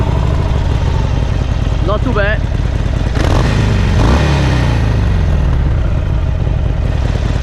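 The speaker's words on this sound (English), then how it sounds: "The engine sounds good although it's stock." A stock 2018 Harley-Davidson Roadster (Sportster) engine idles in a steady, loud, close rumble with brief throttle blips, while someone speaks briefly over it.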